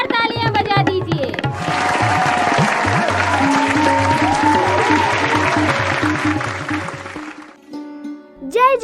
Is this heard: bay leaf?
no